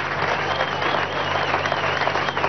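A large audience at a political congress applauds steadily and densely for a couple of seconds, a continuous wash of clapping from a crowd.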